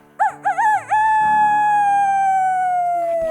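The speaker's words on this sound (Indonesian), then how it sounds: "Dan ketika pagi hari ayam mulai berkokok." A rooster crows loudly and close in the morning, a single long drawn-out cock-a-doodle-doo preceded by a few short rising notes, set against a musical backing.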